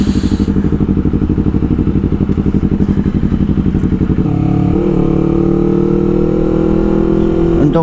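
Honda CBR250RR motorcycle pulsing loudly at low revs through traffic, then settling into a smoother, steadier engine tone after a shift, close and continuous.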